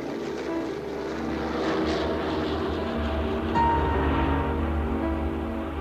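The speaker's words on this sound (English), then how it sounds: "The C-130 is underway." C-130 propeller aircraft underway, a continuous loud droning engine roar with a steady low throb, heard alone throughout.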